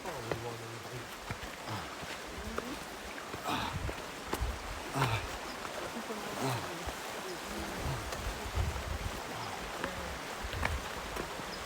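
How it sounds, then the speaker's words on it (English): A river flowing along a California hiking trail, a broad steady rushing wash close by, with a person's voice heard briefly over it. "Here's the river."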